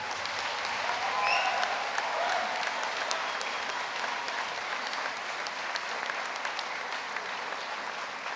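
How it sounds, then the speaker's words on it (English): A graduation audience applauds the families and friends present with steady, sustained clapping from a large crowd, heard from a moderate distance with no voices over it. "Please stand up in a round of applause."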